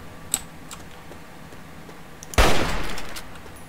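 Gunfire in Fallout 3 with a sniper rifle and the Old Painless rifle: a faint tick early on, then one loud, sharp shot that leaves a long rolling tail of echo against a quiet background.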